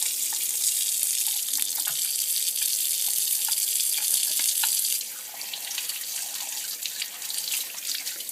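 Tap water runs steadily into a sink as a juicer part is rinsed under it, a close, continuous hiss with small splashes and a slight change in the flow partway through.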